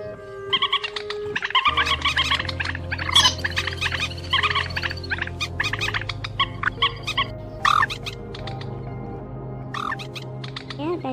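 Recorded calls of swamphen and crakes played back for bird trapping: dense, repeated harsh clucking and gobbling notes over a steady low drone, loud and continuous throughout.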